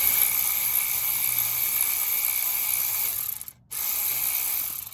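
A ratchet fitted with an extension and swivel loosens a rear brake bolt on a 2010 Dodge Challenger SRT8 6.1, giving a fast continuous clicking that runs close and loud, pauses briefly, then resumes.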